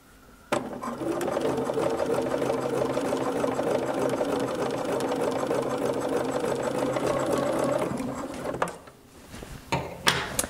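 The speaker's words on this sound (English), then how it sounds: "we're going to sew that, and we're going to sew our shoulder seams" A sewing machine stitching the shoulder seams of a pajama top, a steady fast mechanical whirr for about eight seconds, then stopping, followed by a few handling clicks and knocks.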